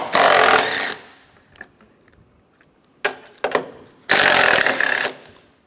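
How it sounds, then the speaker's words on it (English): Strut top nuts on a 2007-2013 Mini Cooper being spun off with a 13mm socket, likely a power tool: two loud, sustained whirring bursts at start and end, with short clicks and rattles between. "Up top, we're going to take these nuts off. Use a 13mm socket."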